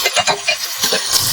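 Boiled noodles and other ingredients are fried in a pan. A short burst of stirring and sizzling comes in quick scraping pulses, close and fairly loud.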